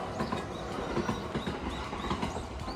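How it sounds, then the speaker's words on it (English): Japanese train passing near a house, a steady rolling rumble with rhythmic wheel clatter and faint metallic squeal, heard at moderate distance and fairly quiet throughout. "And the sounds of the Japanese train."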